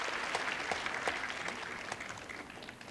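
Faint, distant audience applause in an arena at a 1987 wushu competition in China, a steady wash of clapping with no voices over it.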